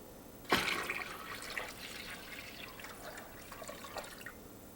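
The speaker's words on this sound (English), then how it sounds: "fill the canner halfway with water" Tap water pours into a boiling water canner, opening with a sharp splash and settling into an uneven, close trickle and gurgle as the pot fills.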